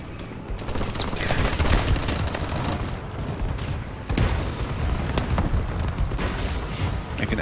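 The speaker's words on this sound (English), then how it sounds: "Friendly bombing run incoming." A friendly bombing run in Call of Duty pounds the map with a dense, continuous barrage of loud explosions and gunfire, rumbling booms rolling one after another with sharper blasts cutting through.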